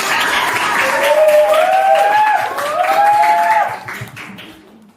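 A class applauds a student, with brief clapping and murmuring under a rising, whistle-like voice or tone before the sound fades out near the end.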